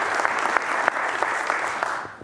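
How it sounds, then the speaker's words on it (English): Audience applause fills a parliament chamber, steady dense clapping with a few sharper claps standing out, holding for a couple of seconds before tapering off at the end. "a round of applause for the Speaker."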